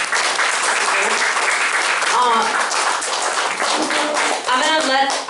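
Audience applause at a Young Republicans meeting: steady clapping from a room of people, with voices calling out and talking over it throughout.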